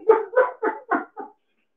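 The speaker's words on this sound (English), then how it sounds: "How are you doing, Trixie? Can you say hello?" A dog barks five times in a steady, evenly spaced series, each bark loud and close, with silence after the last one.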